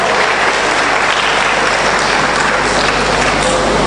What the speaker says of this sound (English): Oh, somebody clap your hand.